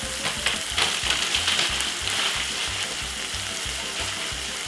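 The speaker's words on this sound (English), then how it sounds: "So we're gonna make that boil up for roughly one nice good 10 minutes." Pasta boils in a pot of water, a steady bubbling and hissing simmer with rapid, even bursts, close and continuous.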